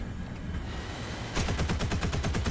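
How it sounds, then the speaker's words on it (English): Cannon fire from Soviet vehicles in War Thunder comes as a rapid automatic burst of evenly spaced heavy thuds, loud and close, following a stretch of low rumbling engine noise. "And the new sounds for the cannons also apply to the Soviets."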